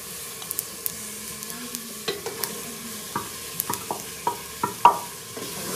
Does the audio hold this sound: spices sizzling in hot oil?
yes